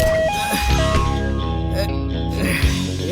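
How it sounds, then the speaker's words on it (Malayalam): An ambulance siren wails in a comedy film scene, its stepped tones loudest at the start and then fading under steady background sound while people talk. "ആംബുലൻസ്"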